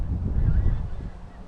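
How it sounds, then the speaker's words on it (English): Pink-footed geese honk in a dense, continuous clamour, many birds calling at once from a moderate distance across an autumn basin, with no voices over them. "Not the crow, the pink-footed geese."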